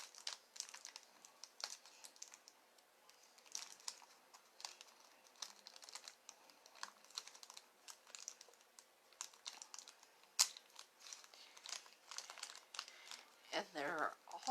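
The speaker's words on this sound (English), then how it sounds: "I will be getting out this little bag of cute little paper clips that come in your embellishment" A small plastic bag of paper clips from a craft embellishment kit being handled, with close crinkling and rustling in short bursts, plus small clicks and light taps.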